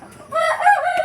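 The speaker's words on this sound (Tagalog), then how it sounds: "Yan yung tandang nila at saka yan." A free-range rooster on a provincial farm crows once, loud and close, a short bright cock-a-doodle call with no talk over it.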